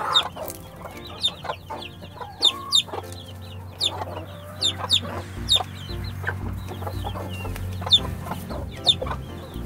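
Backyard flock of American fowl chickens clucking steadily over about ten seconds, with sharp rooster-like calls and repeated hen clucks at close range, and no voices.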